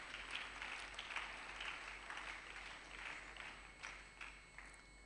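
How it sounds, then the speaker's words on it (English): Audience at a Nnewi Diocese 30th anniversary lecture clapping steadily for a speaker, a soft, sustained wash of applause heard from a distance under a constant low hum. "Please clap for Venerable Tochukwu."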